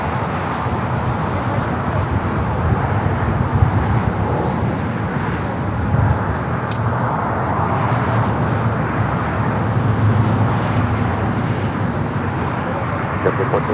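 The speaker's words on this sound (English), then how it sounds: "we got the United Dreamliner coming in from Newark" A United Boeing 787-9 Dreamliner arriving at Los Angeles airport from Newark: a continuous broad jet roar at middle distance, steady and unbroken, with no clear talk over it.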